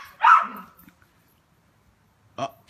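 A household dog gives one loud bark, then a short, sharper bark follows after a quiet pause, heard early in the morning indoors.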